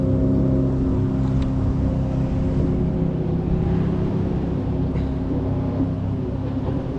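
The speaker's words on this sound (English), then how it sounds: "This boat was passing by" A steady low engine drone of a motorboat passing close by while fishing for northern pikeminnow, constant and loud throughout without speech.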